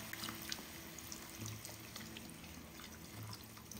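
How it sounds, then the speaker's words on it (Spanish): Chicken broth pours into a pot of curry chicken with a faint, steady liquid trickle that runs unbroken for a few seconds, with no talking. "A este punto le vamos a agregar unas 2 tazas de caldo de pollo."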